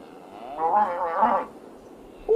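A cow in a grassy field lets out one long, loud, close moo lasting about a second, with no talk.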